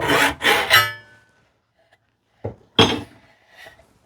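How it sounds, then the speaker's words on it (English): Draw filing on the steel plate of a 16-inch tenon saw kit produces a quick burst of three close rasping strokes, a pause, then two more scraping strokes and a fainter one. "This time I used like almost a draw filing action."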